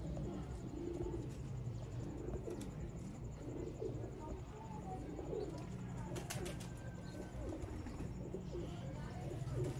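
Sialkoti black-faced pigeons coo softly and repeatedly in a steady, low murmur through a noisy background, with faint voices talking nearby.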